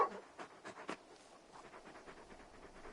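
Torgal the dog in Final Fantasy XVI panting in quick, soft rhythmic breaths close by, with a few louder huffs at the start.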